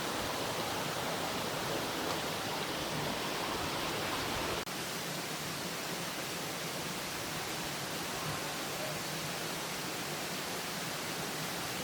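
A flooding river, the Kaligandaki, surges in spate near Lasargha Besi village in Nepal as a steady, dense roar that fills the whole clip, dropping slightly in level about midway, with no voices.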